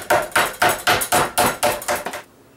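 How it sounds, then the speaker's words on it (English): A meat hammer pounds cheap beef steaks on a board, about nine loud, evenly spaced thuds in a steady rhythm, close up, ending abruptly. "let me get to hammering."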